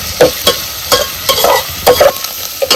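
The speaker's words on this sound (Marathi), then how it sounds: "कांदा चांगला भाजलेला आहे" Onion frying in a pan for a mutton meal, a close sizzle broken by regular scraping strokes of stirring, roughly two or three per second, with no voices.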